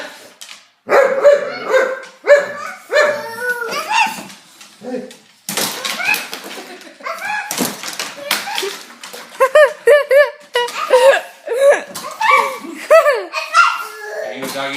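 A dog barks repeatedly in short bursts while children talk, giggle and laugh loudly nearby, the barks close and mixed among the voices.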